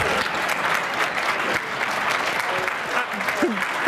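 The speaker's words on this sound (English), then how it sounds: "By your applause, I want to find out" Audience at a televised-style budget debate applauds in a dense, sustained wash of clapping that holds steady throughout, with faint voices mixed under it.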